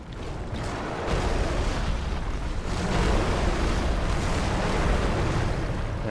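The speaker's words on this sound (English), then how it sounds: "I'll wait for the explosions so I don't get hit by them." Deep, roaring rumble of explosions during the Midir dragon boss fight in Dark Souls 3, a loud continuous wash of booming noise that swells and stays heavy throughout, with no talking.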